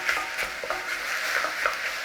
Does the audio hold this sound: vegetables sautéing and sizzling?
yes